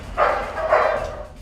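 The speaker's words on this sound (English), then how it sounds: "This military working dog in training is practicing controlled aggression." A military working dog, Malinois or German Shepherd type, in controlled aggression training, gives two loud, close barks about half a second apart with nothing else heard.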